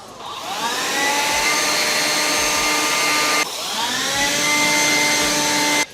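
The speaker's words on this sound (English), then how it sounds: "Take your DeWalt cordless blower. Blow the shit out of it." A DeWalt cordless blower drying a wet Inmotion V12 electric unicycle whines steadily at close range, revving up with rising tones, dropping briefly near the middle, then surging again before cutting off at the end.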